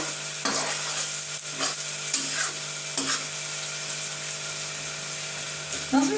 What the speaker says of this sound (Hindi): साथ साथ इस तरह चम्मच के साथ इसको मैश करते रहना है